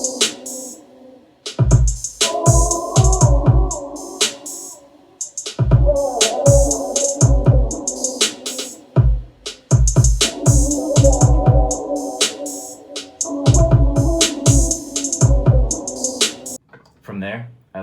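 Punchy drum hits with a heavy low kick thump along over a chopped, stuttering melodic sample that cuts in and out in choppy phrases.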